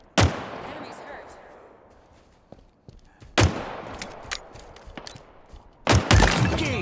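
Halo Infinite firefight: three heavy, booming blasts spaced a few seconds apart, each decaying slowly, with scattered lighter shots and clatter between them.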